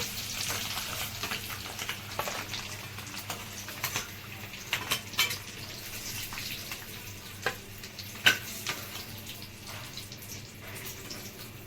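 Eggs fry in oil in a pan with a constant fizzing sizzle. Scattered bright pops and occasional stirring sounds break through, with no talking.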